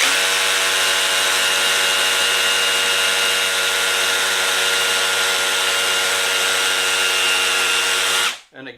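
An Excited Work 21V cordless rotary hammer drill pounds into cinder block with a continuous, loud, buzzing hammer action for about eight seconds before cutting off abruptly.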